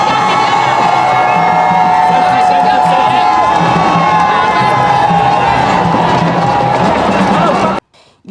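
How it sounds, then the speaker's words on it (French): Enthusiastic crowd lining both sides of a street in Cameroon cheering the Pope's arrival, a loud continuous roar of shouts, whoops and high voices that cuts off abruptly near the end. "il est ovationné par une foule enthousiaste des deux bords de la rue"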